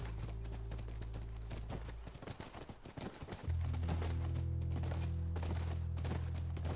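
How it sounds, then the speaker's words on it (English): Horse hooves clip-clop on the ground in The Last Of Us, steady rhythmic steps heard alongside a droning low game ambience that swells louder partway through. "That's our horse."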